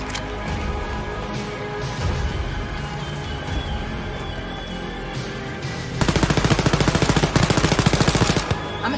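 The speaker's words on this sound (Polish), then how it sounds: "Dlatego cały czas do nich strzelam i nic to nie daje." Rapid gunfire in the video game Wolfenstein Youngblood: dense, continuous shooting and combat noise, then a fast, loud automatic burst of evenly spaced shots near the end.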